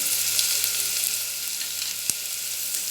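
Spices such as red chilli powder and turmeric frying in a pan for a Marathi-style green pea curry, a steady close sizzle running throughout with one brief sharp crackle, no voices.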